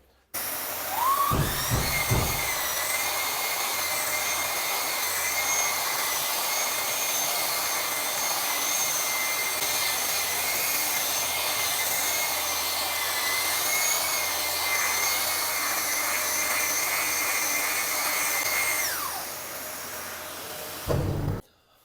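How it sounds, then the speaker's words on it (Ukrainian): An orbital sander whirs up, runs with a steady high-pitched drone against wood for a long stretch, then winds down; a few knocks at start and end. "ось цю зону зараз пошліфую, ріже швидко, працює класно"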